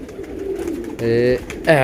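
A pigeon coos close by in short throaty bursts, two distinct calls after a stretch of murmuring, with someone talking around it.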